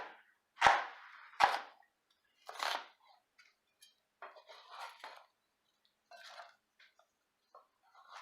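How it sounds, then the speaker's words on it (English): A knife splits an onion lengthwise into large chunks for a vegetable stew, with two sharp chops on the board followed by quieter scattered cutting and handling sounds. "Onion, we're just going to lay flat and split lengthwise down the middle."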